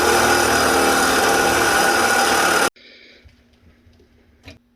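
A loud, steady whine of a power drill working on a mini-truck runs for a few seconds and stops abruptly, followed by quiet clicks and a faint hum.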